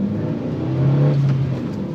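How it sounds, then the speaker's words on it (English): A car's engine revs steadily while driving in third gear, a sustained mid-pitched drone swelling slightly and holding before easing, with no talk over it. "I don't know if you can hear it, but she does rev"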